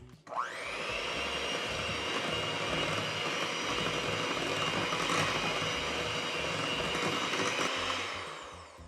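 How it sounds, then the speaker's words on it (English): A handheld electric mixer whisking cookie dough with vanilla extract in a bowl. A steady, close, whirring motor hum runs evenly for several seconds, then spins down. "grab your electric mixer again. And we're just gonna whisk until fully combined"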